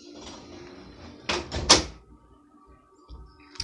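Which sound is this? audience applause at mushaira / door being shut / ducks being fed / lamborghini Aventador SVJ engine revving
door being shut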